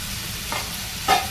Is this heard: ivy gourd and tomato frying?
yes